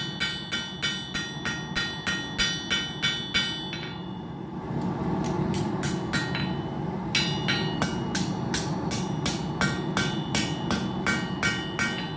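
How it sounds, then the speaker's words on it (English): Rapid, regular ringing hammer strikes on hot titanium on an anvil, close and loud. A brief pause comes midway, then the hammering resumes at a similar pace. "if you just hammer on one side of it, and you don't work both sides"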